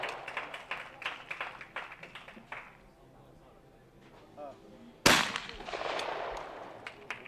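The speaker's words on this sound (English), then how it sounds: "Great shooting from Hoppu." A single sharp shotgun crack rings out at an outdoor trap shooting final, heard under steady commentary from someone talking.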